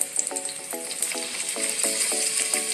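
Garlic frying in a pan for chicken heart adobo with coconut milk: a steady, close sizzle with a run of repeated tonal notes layered over it.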